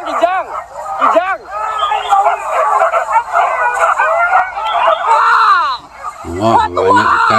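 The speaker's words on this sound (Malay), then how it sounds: "Wah, banyak sekali anjing pemburunya mengejar kijang di sana." A pack of hunting dogs chasing a deer yelps, bays and howls in loud overlapping bursts, continuous and close, with excited voices calling out partway through.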